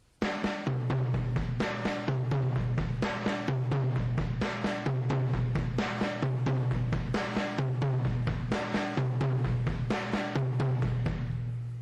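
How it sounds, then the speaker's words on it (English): Close drum kit groove alternating single and double strokes, the doubles falling on a resonant tom, with a steady, repeating rhythm throughout. "we're going to take the two doubles and we're going to put them on the tom"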